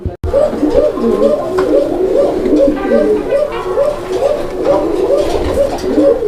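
Pigeons kept for sale, including Lahori, Bombai and Koka breeds, coo loudly and close by in a repeating, rhythmic series of throaty calls that carries on steadily, with faint background voices.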